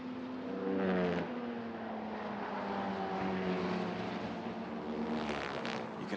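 Formula Regional racing cars at the Red Bull Ring sweep past at speed over a rumble strip, a loud sustained engine drone with pitch sweeps and buzzy texture as several cars go by, no talk.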